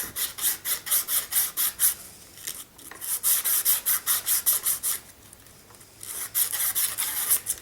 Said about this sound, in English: I usually get a bit of 400 and holding the wheel still, give it a bit of a wipe